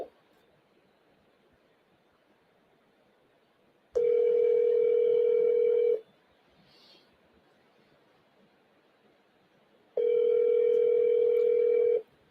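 An outgoing phone call rings on speakerphone: two long, steady ringback tones about two seconds each, spaced by a quiet four-second gap, with faint room hiss between.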